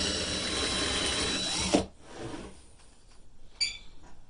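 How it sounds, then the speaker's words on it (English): A power drill with a 1/2 inch bit whirs steadily at close range boring a hole into a firestarter handle, then winds down and stops, followed by faint clicks and a short high squeak. "You're going to need a 1/2 inch drill bit."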